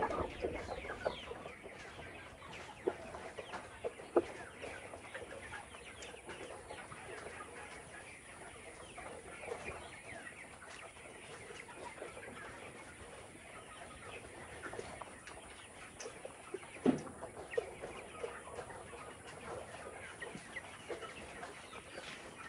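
Farm chickens and roosters squabble in a fight, with a continuous busy mix of clucking, scuffling and sharp flapping bursts close by; no one speaks.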